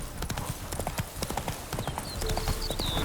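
Roach the horse's hooves clip-clop steadily at a walking pace in The Witcher 3, close and clear over ambient outdoor sound, with a faint whinny-like tone near the end.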